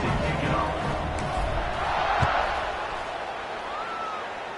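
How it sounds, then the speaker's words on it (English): Stadium crowd buzzing in an NCAA college football video game after a score, a broad roar of cheering and murmur swelling and easing, with commentary voices underneath. "this crowd is buzzing after that last score"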